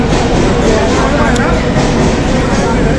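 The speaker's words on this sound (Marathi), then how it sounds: "आमची 7ची सकाळची ट्रेन 4 तासानंतर आता आली दादर स्टेशनला" A passenger train arrives at Dadar station as a loud, constant rumble and rattle with crowd noise and voices talking over it throughout.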